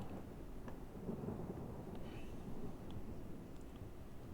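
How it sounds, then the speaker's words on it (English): Approaching thunderstorm as a continuous low rumble of thunder with a steady rain-like wash, moderately loud and sustained without distinct cracks, and no voices. "that storm is quite fast approaching"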